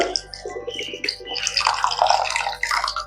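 Water poured into a large bowl of sifted semolina, a close, bubbly trickle and splash that grows fuller midway with gurgling drips, alone without talk.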